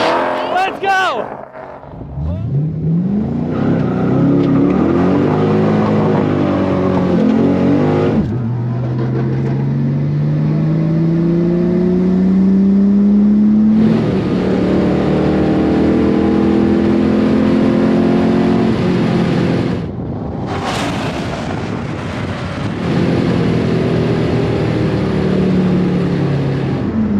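Cars accelerate hard in a drag race, engines roaring and rising in pitch with audible gear changes and stumbles from missed shifts, loud and continuous, with voices talking over the noise.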